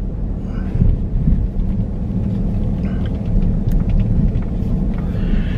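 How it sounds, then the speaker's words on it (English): Thunder from a summer storm rolls as a deep, continuous rumble, loud and steady throughout with faint rain-like hiss above it. "I like summer storms. I think they're pretty."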